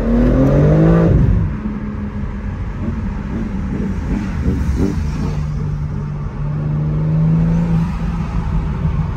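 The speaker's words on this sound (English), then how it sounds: "I have no idea if you guys can hear that blow off, but it's pretty loud." A BMW M3 Competition engine revs and then backs off, its turbo blow-off valve giving a loud release over a low, droning motor rumble, close and without talk.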